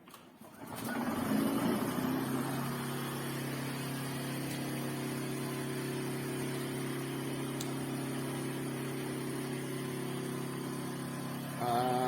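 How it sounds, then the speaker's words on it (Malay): A genset starts with a brief cranking burst, then settles into a steady mid-pitched engine drone with a constant hum that runs evenly and fairly close until near the end. "sekarang kita akan hidupkan genset untuk memulakan pengukuran"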